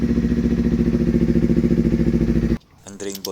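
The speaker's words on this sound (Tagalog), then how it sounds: "Painitin saglit ang motor." A Kawasaki Ninja motorcycle engine idles steadily while warming up, a close, loud, even rumble lasting over two seconds before cutting off, after which a short burst of talk follows.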